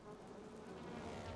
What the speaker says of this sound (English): we would be fighting against a whole army of wasps in armor